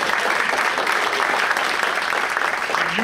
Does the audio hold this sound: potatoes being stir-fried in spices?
no